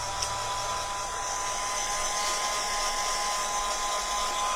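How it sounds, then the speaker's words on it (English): A hot-air blower hisses and whirs steadily and close throughout, drying a paint finish on MDF craft pieces, a continuous airy roar with no talk. "Blasting finish dry is maybe not what you want to be doing on a live on a hot day in the UK."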